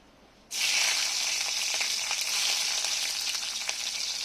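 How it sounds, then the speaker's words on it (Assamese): Nigella seeds and green chilli drop into hot oil left from frying fish, bursting into a sudden loud, steady sizzle that holds close and bright to the end. "তেল গৰমেই হৈ আছে। ইয়াতে মই কালজিৰাখিনি দি লওঁ।"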